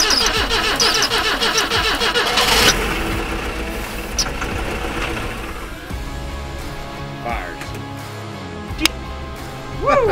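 An E21 BMW engine, primed with starter fluid, cranks rapidly on its starter, then briefly fires and runs roughly before dying into quieter clicks and a final brief crank, heard up close.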